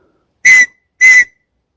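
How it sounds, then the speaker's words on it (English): Two short, loud, shrill blasts on a signal whistle, evenly spaced, piercing and close, with silence around them. "Then in my pocket, for emergencies, I have a signal whistle."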